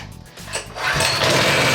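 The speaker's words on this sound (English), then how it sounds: "The engine sounds good, the valves sound good." A Coleman mini bike's small engine runs steadily and loudly, a fast buzzing drone that rises and holds after a brief uneven start.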